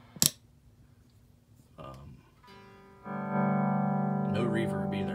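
Electric guitar played through the clean channel of a Mesa Rectoverb 25 combo with no reverb: a couple of sharp picked clicks and a short strum, then a sustained ringing chord held for the last two seconds, with a brief voice at the start.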